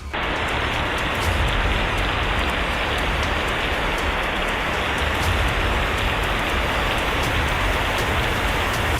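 Heavy rain pours at night, picked up by a church CCTV camera in Mundakkai–Chooralmala the evening before the landslide: a dense, steady, loud roar of downpour that never lets up, with no voices.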